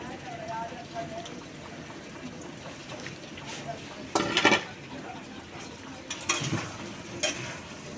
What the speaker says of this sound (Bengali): এবার আমি আলুগুলোকে দিয়ে দিচ্ছি